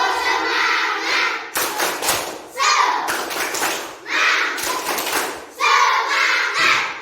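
Children clapping together in a classroom, a spirit clap done in unison, come through as loud bursts of rhythmic clapping and thumping with young voices shouting over them, in about three bouts.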